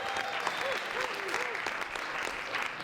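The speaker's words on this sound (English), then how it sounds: "Let's give her a round of applause." Audience at a college elevator pitch competition applauds a contestant with a steady, dense patter of clapping, a few whoops rising above it.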